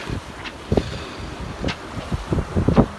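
Wind blowing steadily from behind a sailboat at sea, a soft continuous rush with occasional gusty swells and faint creaks and thumps nearby.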